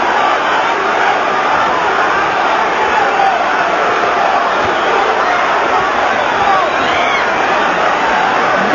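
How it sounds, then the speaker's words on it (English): A packed arena crowd at the Mike Tyson versus Frank Bruno heavyweight boxing fight roars loudly and steadily, with shouts and cheers blending into a dense, unbroken wall of noise. "The crowd here stunned by the early fury of this action"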